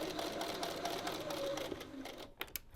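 A sewing machine runs steadily, stitching long fabric bias strips without being pulled, a continuous close mechanical whir that cuts off near the end, followed by a couple of brief clicks.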